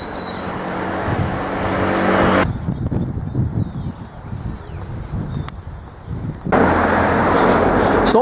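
Cars pass along a suburban road beside the Green Chain Walk: a loud roaring rush fills the start, traffic drops to a quieter rumble in the middle, and another close vehicle sweeps by near the end.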